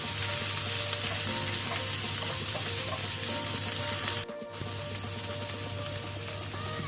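Curry leaves and crushed garlic fry in hot oil for chicken sukka, a dense continuous sizzle with a brief dip partway through, then steady crackling resumes without voices.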